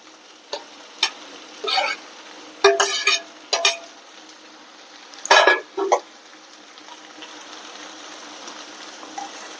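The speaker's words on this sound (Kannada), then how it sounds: "ಇವಾಗ ನಾನು ಇದಕ್ಕೆ ಟೊಮೆಟೊ ಹಾಕ್ತೇನೆ ನೋಡ್ರಿ" Tomatoes tipped into a hot frying pan for a North Karnataka meal, giving short bursts of sizzling and scraping stirs, several distinct scrapes in the first six seconds and then a quieter steady fry.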